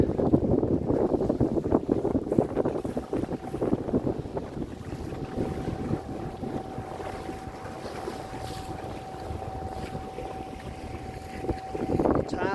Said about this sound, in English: A bit windy, so I hope you can hear.